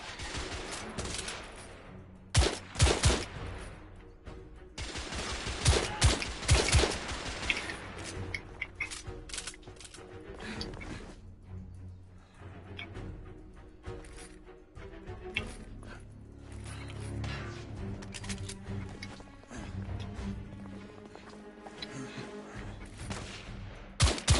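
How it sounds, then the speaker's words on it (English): Rifle fire in The Order: 1886, a video game, with bursts of rapid gunshots in sustained volleys separated by short pauses, sharp and mid-distance, with little talk. "This is one of the better rifles as well, because you can hold it down"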